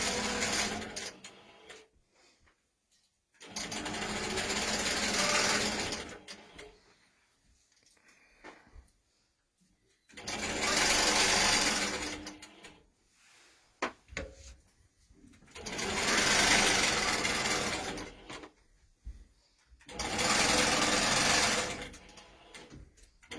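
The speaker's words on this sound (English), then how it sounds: "I'm just stitching a line, or straight line, all the way across, so that will sew my wadding to my backing" A longarm quilting machine stitches a straight line through wadding and backing in four loud, sustained bursts of rapid mechanical whirring, with quiet pauses and small handling noises between them.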